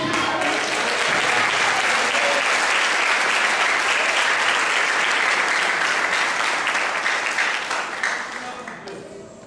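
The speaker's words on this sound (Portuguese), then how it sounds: "Aplauda Ele." A church congregation at an Easter service breaks into full, sustained applause, a thick roar of many hands, loud and steady, tapering off near the end with a voice coming through.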